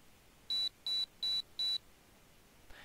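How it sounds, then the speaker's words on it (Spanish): A computer terminal alarm from the game Ever 17 beeps four times in an even, steady rhythm, each tone short and clear, then falls quiet. "La terminal emitió una alarma y la pantalla cambió."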